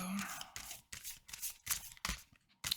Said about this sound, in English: It's awkward to shuffle, but the big circle ones are awkward to shuffle too.